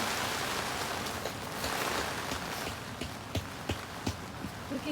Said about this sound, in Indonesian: Hujan lebat, angin. Mau terbang ini.